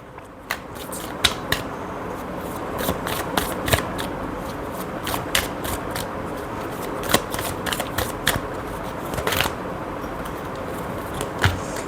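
Tarot cards shuffled by hand in a quiet room, a run of quick crisp riffles and taps with irregular sharp snaps, close and alone without talk.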